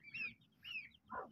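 A hen clucks in three short bursts spaced about half a second apart, fairly faint, with low background rumble.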